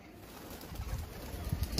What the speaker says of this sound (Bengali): কবুতরগুলো ফ্লাইং করা শুরু করছে